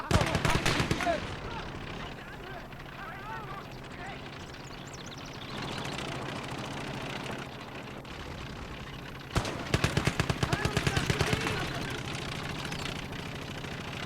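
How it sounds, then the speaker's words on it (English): Enemy artillery firing in the World War II strategy game Gates of Hell, heard as rapid repeated bursts and booms over a rumbling engine bed, densest at the start and again near the end. "Achtung, Feindgeschütz!"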